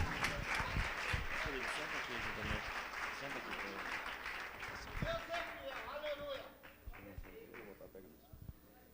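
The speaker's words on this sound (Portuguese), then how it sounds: "Você que crê, glorifique a Deus e aplauda a presença do Senhor nesta noite" A church congregation clapping steadily for several seconds during an evening service, with voices mixed in, the applause gradually thinning and fading toward the end.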